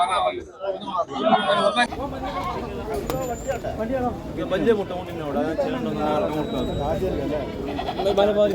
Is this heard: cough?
no